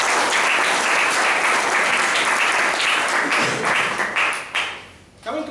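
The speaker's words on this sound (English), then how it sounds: "Give it a big round of applause for Dr." Loud, dense applause from an audience at a Toastmasters club meeting fills the room without a break, then thins and fades toward the end.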